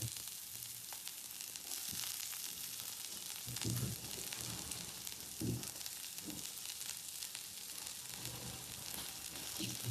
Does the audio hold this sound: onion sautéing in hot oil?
yes